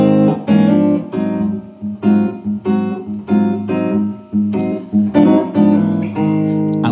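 Guitar comps a blues with chord triads, the pinky adding sixths and sevenths, in rhythmic strummed chords with short pauses, loud and close, no talking.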